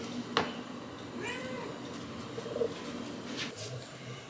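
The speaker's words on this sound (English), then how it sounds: "Quit meowing." Nearby cat gives a few short meows spaced apart, with faint household background noise in between.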